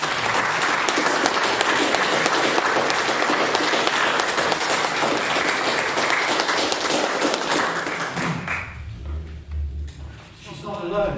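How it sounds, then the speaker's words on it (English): Loud, dense applause from a conference audience after a Brexit-themed talk, sustained for about eight seconds before thinning out and fading into scattered claps and room noise. "I really, really think that she deserves a huge amount of applause."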